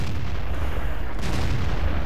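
A Tiger II tank fires its main gun in World of Tanks, a heavy, booming blast that fills the soundscape with a deep, rumbling roar and a sharper burst of energy partway through.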